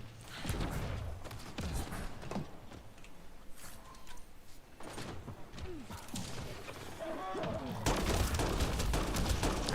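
Shooting at an enemy in the Mass Effect Andromeda game, sharp irregular gunshots and impacts scattered across the stretch, with mechanical clicks and a louder surge of fire near the end.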